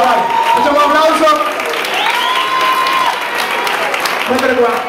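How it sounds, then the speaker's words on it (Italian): Applause for two music students at a rumba and Caribbean percussion lesson, a loud burst of clapping with voices and cheers mixed in, tapering toward the end. "facciamo un applauso"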